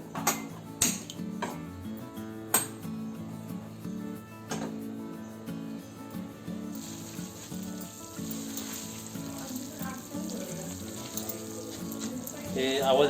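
Soaked, wet puffed rice hits a hot kadhai and sizzles, a steady frying hiss with a few sharp clanks and knocks early on, swelling louder toward the end.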